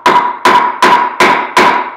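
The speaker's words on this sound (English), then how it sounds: "Start hammering down again." A steel axe head is hammered into a log to split it into lumber by hand. Five sharp, ringing strikes land at a steady pace about a third of a second apart, loud and close, with no talk.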